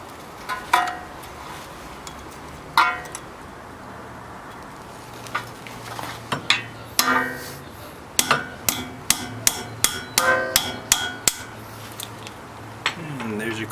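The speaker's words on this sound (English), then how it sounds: "I'll remove the cotter pin and loosen the castle nut on the lower ball joint." Metal tapping and prying on a car's lower ball joint while a cotter pin is worked out of the castle nut, sharp clinks and hammer-like hits coming in scattered bursts, close and fairly loud over a faint background hum.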